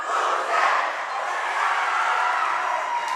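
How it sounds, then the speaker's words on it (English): Loud, sustained roar from a crowd yelling and cheering at a girls high school basketball game between Wahconah and Hoosac Valley, a thick wall of voices filling the gym throughout. "The crowd's done a great job tonight. They've been loud."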